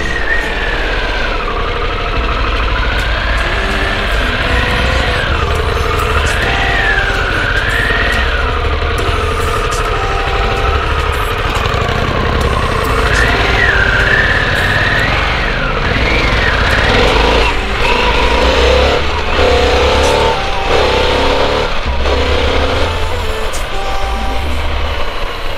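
A 2021 Harley-Davidson Pan America engine runs loud and close, its pitch rising and falling in repeated revving surges over a constant rumble.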